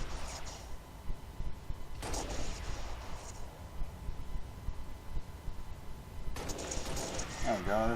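Gunfire crackles in Halo Reach while enemy gunners are taken out, bursts of shots at moderate distance with a voice talking over them.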